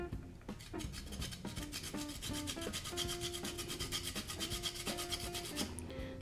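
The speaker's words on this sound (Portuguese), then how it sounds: "Só uma dica, gente, é para raspar só essa casquinha." Lemon zest grated for a lemon cake, a steady rhythmic rasping scrape repeated quickly and close up, with faint kitchen sounds underneath.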